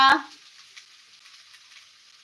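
Chow mein hits a hot pan with a sharp clatter, then settles into a faint, steady sizzle of frying and stirring.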